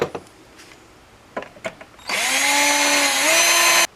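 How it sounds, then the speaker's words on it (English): A power drill bores out a steel bolt during a Jeep 4.0 tension pulley replacement. A few light clicks and taps come first, then a loud, close, sustained whine that holds steady for nearly two seconds before cutting off. "drill this out. Now, unfortunately, this bolt is steel, not aluminum."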